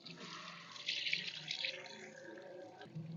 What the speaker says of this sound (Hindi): तो चलिए फिर डालते हैं इसमें पानी।